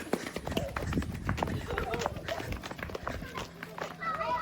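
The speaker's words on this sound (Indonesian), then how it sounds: "kita akan muat lagi guys sapi yang selanjutnya. Sapinya naik" Hooves of large cattle, including a Limousin, clattering and thudding irregularly on a ramp as cows are loaded onto a truck, with someone talking over the busy scuffling.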